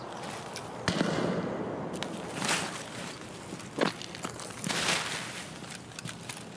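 Gunshots from a scav sniper in Escape from Tarkov: several separate sharp cracks spaced a second or two apart over a steady outdoor background, moderately loud and somewhat distant.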